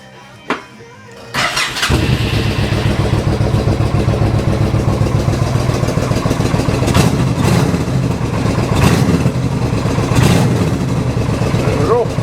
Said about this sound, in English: I need two hands to start this bike